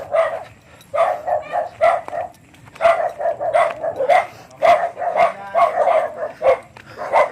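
Several dogs bark in quick, overlapping bursts at moderate distance at a house in the mountains, a steady volley of yaps that continues throughout.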